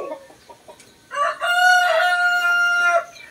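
A Rhode Island Red rooster crows once nearby, loud and drawn out, after a few soft clucks.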